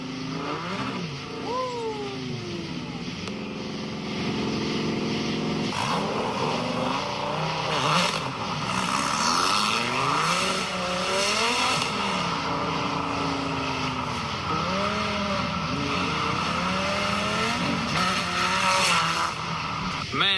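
A rebuilt car engine rumbles loudly while driving, throttle rising and falling in repeated revving swells with a deep, rough drone throughout. The sound is close and continuous, with voices speaking over it at times.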